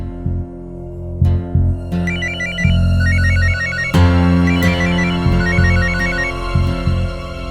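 A police station's call rings on a telephone with repeated electronic ringtone bursts, loud and close, cycling over a sustained tonal backdrop.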